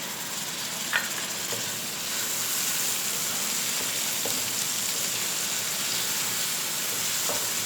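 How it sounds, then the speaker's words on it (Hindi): Green chillies and tomato frying in oil for masala moong daal, a steady even sizzle with a few faint clicks of stirring, close and continuous. "फ्राई कर लेते हैं। लाइट से बस ब्राउन हो जाए।"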